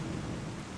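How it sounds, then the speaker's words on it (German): Steady rain pours with a deep, rolling thunder rumble in the Gothic video game, an unbroken stormy wash without voices. "irgendwie finde ich das gerade total schön hier mit dem Regen und den Wolken"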